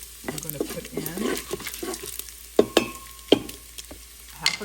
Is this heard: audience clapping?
no